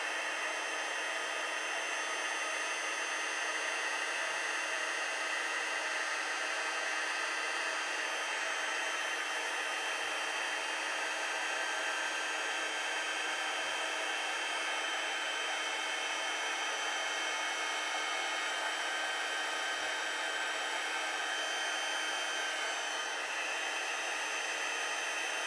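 Heat tool melting clear embossing powder on a handmade birthday card, a constant, fairly quiet whoosh of hot air running unbroken for the whole stretch.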